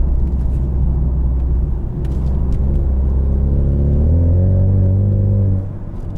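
Deep exhaust drone of a 2020 Ford Mustang EcoBoost convertible with performance exhaust in track mode, heard from the cabin as a loud low rumble that rises in pitch as the engine revs up, then eases off.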